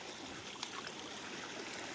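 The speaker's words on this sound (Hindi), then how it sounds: "जंगल से आ रखा है ये पानी।" Cold forest stream water flows in a steady, close rushing wash, continuous and even with no voices.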